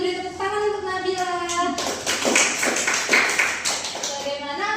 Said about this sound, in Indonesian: Beri tepuk tangan untuk Nabila